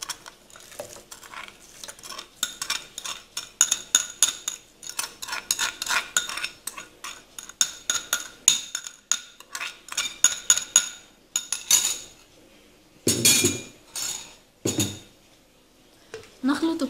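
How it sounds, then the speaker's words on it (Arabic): Carrot flan ingredients and sugar being mixed in a bowl, a utensil clinking and scraping against the dish in a steady run of quick strokes, close and fairly loud, with a few heavier knocks near the end. "نخلط كل العناصر جيدا حتى نحصل على خليط متجانس"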